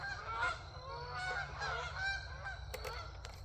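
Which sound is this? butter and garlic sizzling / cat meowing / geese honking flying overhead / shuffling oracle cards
geese honking flying overhead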